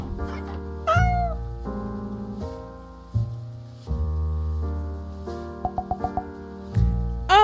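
A cartoonish cat meows in a video game over a bouncy game soundtrack, several short mewing calls standing out above the steady music, with no talking.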